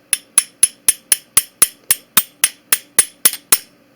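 Steady, sharp metallic taps on the shackle of a combination padlock to loosen its ring, about fifteen evenly spaced clicks with ringing decay, close and clear with no talk.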